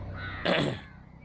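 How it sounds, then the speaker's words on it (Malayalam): A crow lets out a single short, harsh caw outdoors on a breezy Kerala morning, close and clear over faint low background noise. "കൊക്കും കാക്കയും ഒക്കെ ഉണ്ട്."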